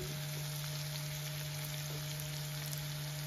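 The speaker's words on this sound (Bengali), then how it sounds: "মোটামুটি করলা ভাজাটা হয়ে গেছে, এখন আমি এটার মধ্যে মশলা করবো।" Sliced bitter gourd frying in oil in a pan, a continuous close dense sizzle with a steady hum underneath and no talking.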